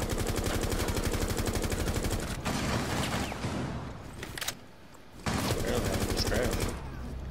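Rapid automatic gunfire in the video game Overwatch, loud bursts of rattling shots running almost continuously, broken by a brief lull before firing resumes.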